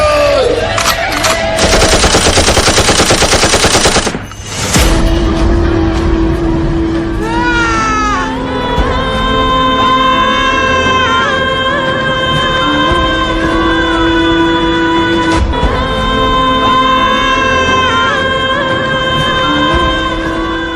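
Staged gunfire effects burst out during an Independence Day cultural stage performance, with a loud rapid rattle at the start followed by dramatic music and sustained tones over a crowd.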